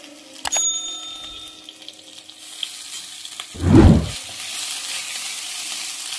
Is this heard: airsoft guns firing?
no